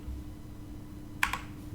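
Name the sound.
typing on a computer keyboard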